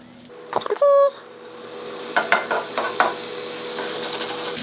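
A grilled cheese sandwich sizzles in a pan after a brief clatter of utensils, with a steady close fry hiss and a few scraping touches.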